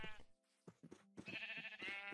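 Minecraft sheep on a mountaintop give a few short, nasal bleats, close and clear against near silence, one call overlapping another toward the end.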